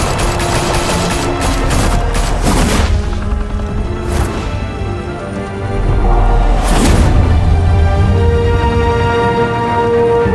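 Gunfire in a Batman: The Telltale Series shootout in Gotham: dense, sustained bursts of automatic fire with heavy booms, loud and continuous throughout, no talk over it.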